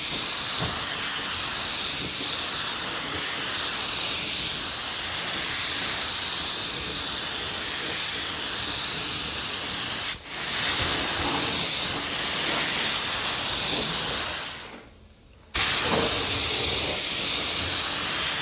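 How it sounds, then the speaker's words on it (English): A spray can or gun lays epoxy black paint onto the engine block of a Toyota Celica GT-Four ST185 under restoration, giving a loud continuous hiss with a brief dip partway through and a short pause near the end. "let's get some epoxy black on it and let's see what it looks like"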